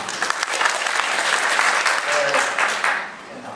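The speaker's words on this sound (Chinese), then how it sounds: "大家掌声来欢迎宇文。" An audience at a Taipei engineering exhibition gives a burst of steady, dense applause to welcome a speaker. The clapping holds for about three seconds before tapering off, with a voice briefly heard over it.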